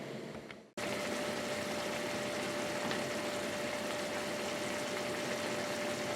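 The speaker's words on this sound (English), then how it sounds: "So very gentle simmer." Arrabbiata tomato sauce simmers gently in a pan, a soft, steady bubbling hiss that runs on evenly after a brief break, with no voices.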